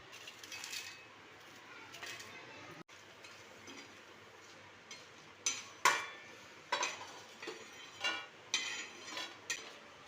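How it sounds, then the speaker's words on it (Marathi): Coriander seeds and poppy seeds dry-roasting on a griddle: quiet rustling broken by repeated scraping and light metallic clinks of a spatula. "हे आता आपल्याला पूर्ण हे तव्यावरती भाजून घ्यायचं आहे."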